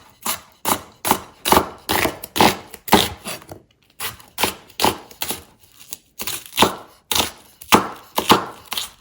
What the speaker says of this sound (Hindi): प्याज है मेरे पास 4 और अदरक लहसुन है, इनको काट लेते हैं।